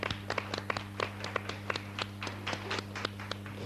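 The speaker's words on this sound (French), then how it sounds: "On les applaudit." A TV studio audience applauds schoolchildren with scattered, uneven claps over a steady background hum. The clapping is fairly faint and sparse, not a full ovation.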